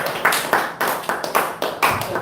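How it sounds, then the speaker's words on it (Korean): Audience applause at a Korean church spiritual mentoring seminar, a short burst of steady rhythmic clapping heard fairly close with no talking over it. "다시 한번 큰 박수 부탁드립니다."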